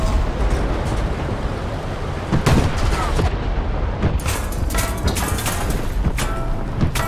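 Tank gunfire in War Thunder: a few sharp, loud cannon shots and short bursts crack over a steady, heavy engine and battlefield rumble, with scattered smaller impacts.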